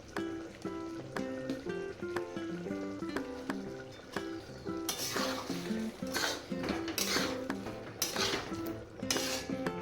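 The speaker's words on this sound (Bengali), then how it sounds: "গরম মশলা ঘিটাকে আলুর সাথে ভালোভাবে মিশিয়ে নিলাম।" Potatoes being stirred with ghee and garam masala in a pan, a utensil clinking and scraping against the metal in repeated, uneven strokes up close, with sizzling noise swelling in the second half.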